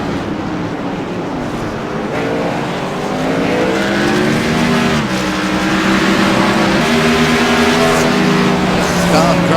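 Race cars roar at Sonoma Raceway, their engines droning steadily and loudly throughout with rising and shifting pitch as they run the final straightaway, while a commentator talks over them.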